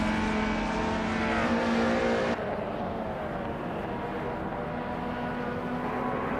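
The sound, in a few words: 1997 Citroën ZX racing car engine in racing video game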